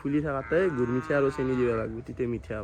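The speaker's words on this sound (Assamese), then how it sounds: "এই ছাগাল গৰুৰ মাত দেখিছে নে শুনছে নে" A cow mooing loudly and close by in a rural setting, a series of drawn-out, wavering lowing calls over about three seconds, with a voice talking over it.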